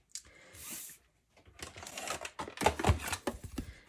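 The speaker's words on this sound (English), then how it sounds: "we can get all of these cut in one pass of our cut and emboss machine" Cut and emboss machine running cardstock through with a die, irregular clattering and rattling mechanical bursts near the mic after a brief quiet gap, no talk.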